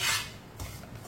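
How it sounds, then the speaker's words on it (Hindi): A spoon scraping and stirring semolina as it roasts in oil in a pan for suji halwa: a loud rasping scrape at the start, then softer continuous rubbing and stirring close by. "अब इसे चम्मच चलाते हुए हल्का सा ब्राउन कर लेंगे।"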